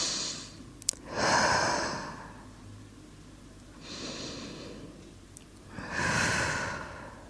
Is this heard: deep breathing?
yes